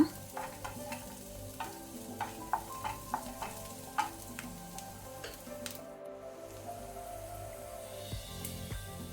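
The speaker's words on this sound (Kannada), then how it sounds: "ಗುಲಾಬಿ ಬಣ್ಣ ಬರುವ ತನಕ ಫ್ರೈ ಮಾಡ್ಕೊಳ್ಳೋಣ." Chopped onion with curry leaves fries in a pan, a soft steady sizzle under repeated light scrapes and taps of a spatula stirring, with no talking.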